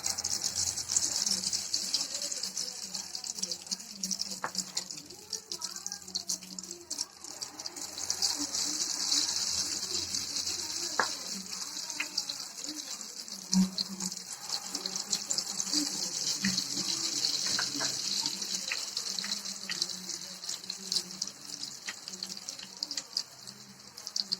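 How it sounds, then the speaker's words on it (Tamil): Gulab jamun mix batter fries in hot oil in a flat pan, giving a continuous bright sizzle with occasional faint clinks and a soft voice in the background. "எண்ணெய் நல்லா சூடாயிடுச்சு நம்ம கலந்து வச்சதை அதில் ஊற்றிக்கலாம்"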